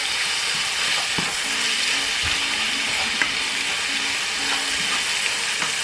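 Meat sizzles in a hot pot over high flame, a loud continuous frying hiss close by with faint scrapes and clinks from stirring.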